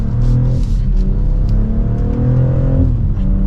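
BMW X3 M50 engine revving loudly, a sustained deep growl with rising and falling pitch sweeps, close and dominant throughout.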